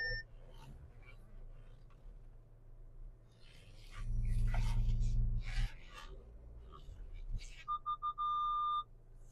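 A mobile phone ringtone plays briefly near the end, a short pulsing tone after a rumble of car interior noise and handling sounds inside a 2014 Nissan Qashqai Tekna dCi 4x4.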